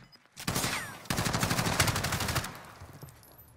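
Rapid automatic fire from an AUG rifle in a 2v2 Gunfight video game match, a dense burst of shots lasting about two seconds, then tapering off, with no talking.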